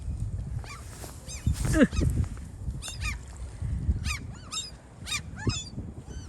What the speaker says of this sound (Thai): เป็ดมาเด้อเป็ด